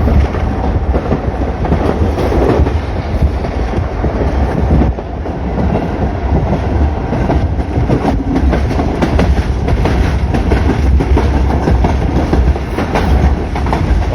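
A train rolls steadily along branch line rails between Rawalpindi and Sialkot, Pakistan, with a dense, continuous rumble and irregular clattering wheel rhythm, loud and close, with no voices.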